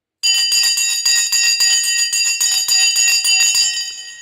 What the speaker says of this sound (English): The bell has now gone.